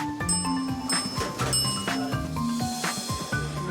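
A restaurant kitchen service bell rings out in several bright metallic dings at irregular intervals, each ringing on briefly, amid clattering kitchen bustle and no clear talking.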